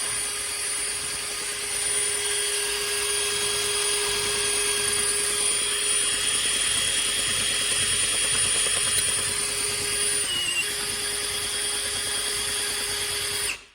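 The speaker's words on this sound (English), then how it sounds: "That's just a quick grind." Engine valves being ground in with an oscillating valve-lapping tool, a continuous loud whirring drone with a steady tonal whine running unbroken for over ten seconds, close up and alone.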